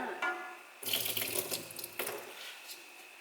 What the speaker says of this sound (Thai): เทน้ำ